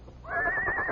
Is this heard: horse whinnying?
yes